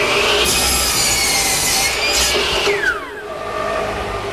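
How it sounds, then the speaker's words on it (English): A table saw fitted with a stacked dado head cutter about 3/4 inch wide cuts a half lap joint in wood, a loud high-pitched whine and grinding that winds down near the end. "What I'm using is a stacked dado head cutter with about 3/4 inch width"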